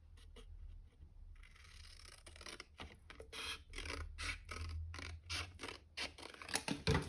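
Scissors cutting a layer of card stock for a pop-up concertina card, a series of close, quiet, rhythmic snipping and scraping strokes running along a line.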